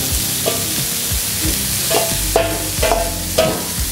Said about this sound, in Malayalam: തവയിലേക്ക് നമ്മൾ ഗ്രില്ല് ചെയ്യാൻ വേണ്ടിയിട്ട് ഇട്ട് കൊടുക്കാം.